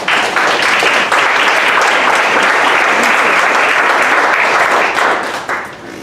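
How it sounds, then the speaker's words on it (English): A standing audience at a Dallas startup pitch event applauds a presenter, dense sustained clapping that stays loud for about five seconds before tapering off at the end, with faint voices underneath. "Give a round of applause for John."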